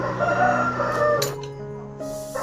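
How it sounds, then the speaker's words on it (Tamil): A rooster raised at a house crows close by, a loud drawn-out call that breaks into a second rising phrase, heard alone. "அது என்னதுன்னா சேவல் எங்கள் வீட்டுக்கார் வளர்க்குறதுனால அது கூவிக்கிட்டே இருக்கும்"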